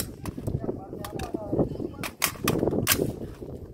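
Gunshots crack at a shooting range barricade drill, a series of sharp, loud reports in uneven succession, with shouted commands between shots.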